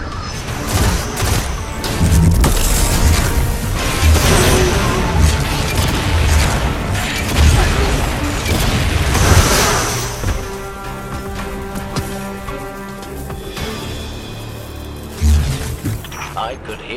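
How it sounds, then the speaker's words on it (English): Rumbling booms and crashes from traps exploding roll through a busy Destiny 2 game battle with mechanical clatter, loud at first and easing later, with one more thump near the end. "I could hear the explosions all the way back here"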